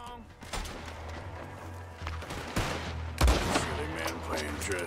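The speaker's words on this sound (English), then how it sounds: "Why are they shooting him?" Gunfire in Red Dead Redemption, with several sharp shots spaced over a few seconds amid a low rumbling game soundscape, one especially loud near the end, with voices nearby.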